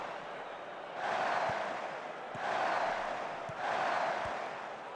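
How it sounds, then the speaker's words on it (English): Crowd noise from a football match in the video game Football Manager 2024 forms a steady roar that swells in three distinct surges. "You have to excuse the sound of the crowd; it is rather loud."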